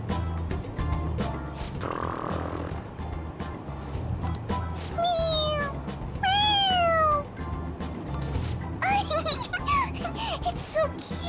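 Meows from a Persona 5 Royal toy cat that sounds when its head is pressed: several bright, sliding meows in the middle and toward the end, repeated over continuous game music.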